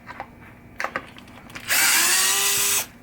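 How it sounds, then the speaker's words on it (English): On a 1976 Williams Grand Prix pinball machine, a power screwdriver runs in one steady whine of about a second, after a few faint clicks and handling taps. "let's get the screws out on this side"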